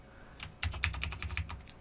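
Rapid keystrokes on a mechanical computer keyboard, a quick run of crisp clicks close by after a short quiet lead-in, with no voices.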